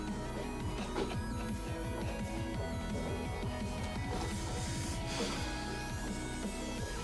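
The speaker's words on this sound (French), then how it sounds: "Je sais pas si vous entendez, mais ma mère passe l'aspirateur." A vacuum cleaner runs in another room as a faint, steady mechanical drone with a rhythmic motor pulse that continues throughout without any speech.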